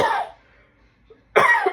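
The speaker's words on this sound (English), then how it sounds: "I don't know why I keep coughing." Two coughs close by, one at the start and one near the end, separated by a stretch of near silence.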